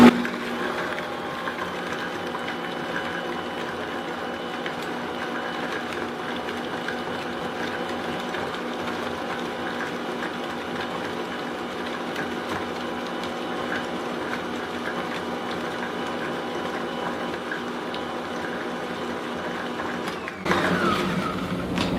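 An electric mixer whirs steadily for about twenty seconds as it beats cranberry oat bar batter in a bowl, a close, even mechanical drone that cuts off with a brief clatter near the end.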